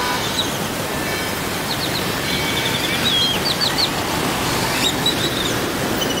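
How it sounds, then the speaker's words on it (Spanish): Birds chirp and call restlessly at dusk along a seaside promenade in Tuxpan, Veracruz, scattered tweets over a steady wash of background noise and distant surf. "Y por ahí las aves, inquietas, ya queriendo dormir."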